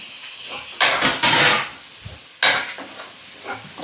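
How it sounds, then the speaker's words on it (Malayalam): Finely chopped tomato hits a hot pan with browned chillies, bursting into loud, close sizzling hisses in two strong surges, followed by softer crackling and stirring. "മുളക് മൂത്ത് കഴിഞ്ഞിട്ടുണ്ടെങ്കിൽ നമുക്ക് ഒരു തക്കാളി ഇടുന്നു കേട്ടോ."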